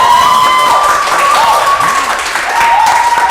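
A live show audience breaks into dense, continuous applause, loud and close, with a steady tone and some voices threading through the clapping for a few seconds.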